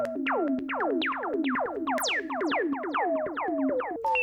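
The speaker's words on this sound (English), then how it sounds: "And they're all achieved by a very simple technique which is called filter self-oscillation." Self-oscillating synthesizer filter makes rapid chirpy, blippy tones that sweep downward like bird calls or water drops, tumbling in quick overlapping bursts over a low steady drone, clean and close, with no voices.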